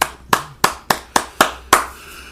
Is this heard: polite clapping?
yes